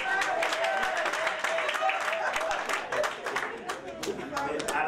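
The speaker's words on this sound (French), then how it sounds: "Applaudissements." Wedding guests clap and applaud in a dense, continuous wash of hand claps that stays fairly loud throughout, with voices talking and calling out beneath it.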